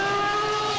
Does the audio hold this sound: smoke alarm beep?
no